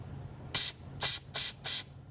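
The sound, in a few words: dirt bike carburetor accelerator pump squirting fuel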